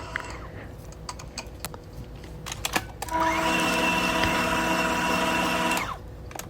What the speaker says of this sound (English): squeeze 1/2 lemon into this batter. Give it a little gentle mix.